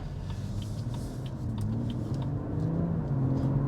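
A BMW M140i pulls out of a junction, its engine rumbling steadily from inside the cabin as the revs climb gradually under gentle acceleration.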